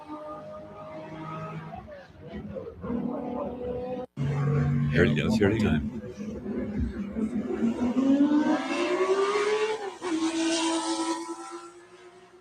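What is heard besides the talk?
flat-plane crank car engine revving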